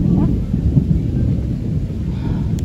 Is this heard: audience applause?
no